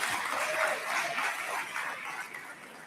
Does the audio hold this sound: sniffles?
no